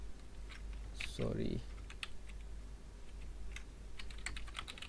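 Computer keyboard typing code, scattered light key clicks at low volume with a brief voice in the background.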